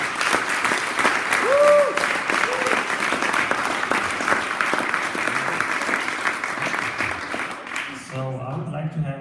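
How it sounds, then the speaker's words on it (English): Applause from a hackathon audience for the teams after their pitches rings out loud and sustained with a brief whoop near the start, then fades as a voice begins speaking at the end. "Big round of applause for all the teams that worked so hard the last 2 days."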